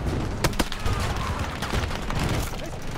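Gunfire from a Battlefield 2042 match, including a 12M Auto shotgun, rings out as a few sharp shots over a dense, noisy battle backdrop, with a voice speaking briefly.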